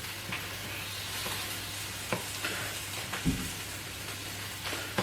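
Bacon frying in a pan while breakfast is made, a steady low sizzle and crackle running throughout, with a few soft clicks and taps from utensils rising above it.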